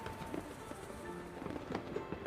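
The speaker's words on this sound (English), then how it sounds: "Fireworks burst, their thunderous sparks resounding." Fireworks bursting around a city tower at night, a dense run of crackling pops and small booms at moderate distance, continuous and fairly faint.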